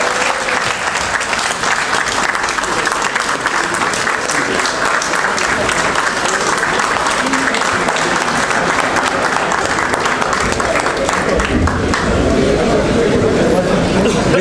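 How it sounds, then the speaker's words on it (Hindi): Sustained applause from a standing audience at an Islamabad Chamber of Commerce and Industry event, a dense, even roar of many hands clapping throughout, with crowd babble mixed in. "आप सब लोग खड़े होकर उनकी तालियों का जवाब दें"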